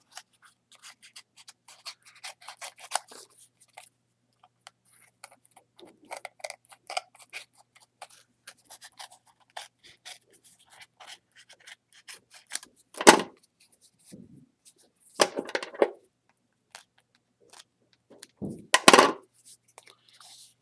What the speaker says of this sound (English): I'm just going to go ahead and cut around it